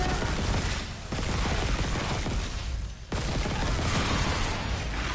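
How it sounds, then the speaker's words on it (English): Rapid, continuous weapon fire rattles through a Dead Space game fight against enemies, dense bursts with two brief gaps between them, loud and close throughout. "if I just keep shooting them, and shooting, I'm fine"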